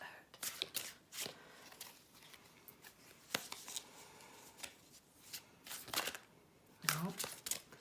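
Playing cards being shuffled, several quick riffling bursts at close range with soft papery rustles in between, quiet and intimate.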